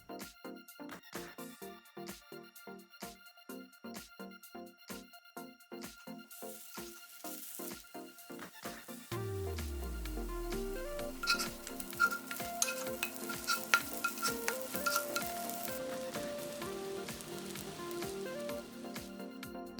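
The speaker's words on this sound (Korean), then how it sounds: "동그랗게 모양 잡고 앞뒤로 노릇하게 지져냈다." Old-style Korean pink sausage, shaped into round patties, is pan-fried in oil. A steady crackling sizzle starts about halfway through and keeps going, with faint rhythmic sounds before it.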